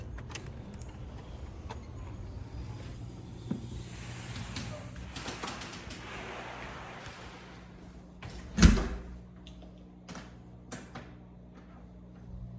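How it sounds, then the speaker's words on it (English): A deadbolted door is unlocked and opened during a house walk-through, with one sharp, close knock-like thud near the end over low room noise and faint voices. "We got the door unlocked."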